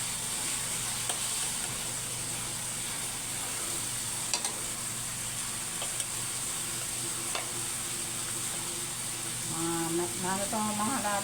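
Large pieces of tuna belly sizzle steadily in a hot pan for sinigang, a dense continuous frying hiss with occasional clinks of a utensil and a faint voice near the end.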